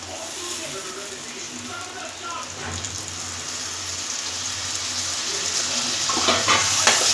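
Tomato fries in hot oil in a pan for an egg curry, giving a dense, steady crackling sizzle that swells slightly toward the end, with faint stirring clinks and no talking.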